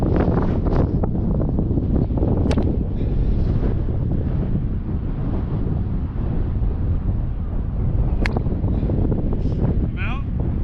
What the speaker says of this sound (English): Pretty windy right now.